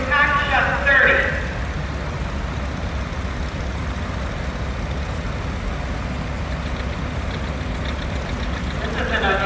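A 1942 Cockshutt 30 tractor engine runs steadily as it rolls past in a parade, a continuous low rumble with a brief louder surge at the start, while an announcer talks over it.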